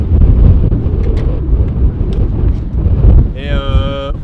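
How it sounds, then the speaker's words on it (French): Wind buffeting a microphone on a drive with bikes loaded on car bike racks, a steady loud low rumble throughout with road noise underneath. "Il y a un petit peu de vent."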